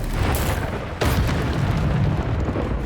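Incendio fire spell cast in a Harry Potter video game, a loud booming burst of flame at the start with a second heavy whoosh about a second later, rumbling low and steady throughout with no talk.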